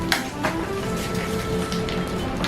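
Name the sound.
ice being added to a coffee drink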